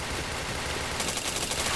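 Rapid gunfire from the PointBlank shooter game crackles in a dense, continuous burst of shots that grows slightly sharper toward the end.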